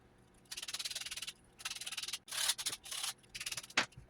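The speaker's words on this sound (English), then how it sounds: "Just a little bit of sanding and we'll be good to go." Hand sanding small wooden pieces for a century-old organ's bellows, with bursts of rhythmic back-and-forth scratchy strokes, close and clear, separated by short pauses.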